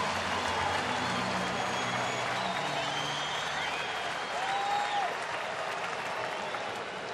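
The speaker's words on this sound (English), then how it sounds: "let the crowd cheer him on as he had his all-star announcement flashed on the scoreboard" Home crowd at a Braves baseball game against the Reds applauding and cheering steadily for a player, a broad wash of distant clapping from the stadium with a few faint whistles.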